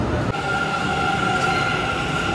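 A Kintetsu Shimakaze limited express train pulls out of a station platform toward the Hanshin line, a steady loud rumble of rolling wheels and motor hum filling the whole span with a faint squeal on top.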